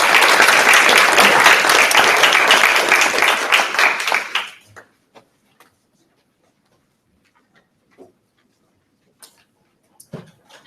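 Audience applause welcoming a guest professor to the podium at a public talk on sustainable energy, a loud sustained clapping crowd that fades out after about four seconds, leaving near silence with a few faint ticks and shuffles.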